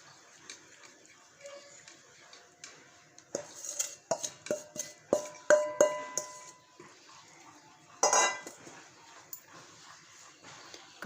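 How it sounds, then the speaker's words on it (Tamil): A spoon scrapes and clatters against a pan as gram flour mixture is stirred into ghee for Mysore pak, a series of sharp metallic knocks and scrapes, with one louder clang near the end. "கடலை மாவு கலவையை சேர்த்துக்கலாம். சேர்த்து நல்லா கிண்டி விடுங்க."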